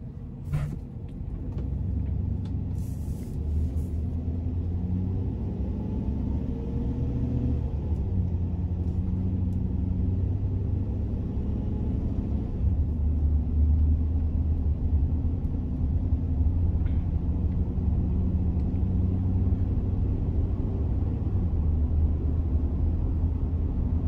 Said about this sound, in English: we're gonna take this one out on the road for a quick test drive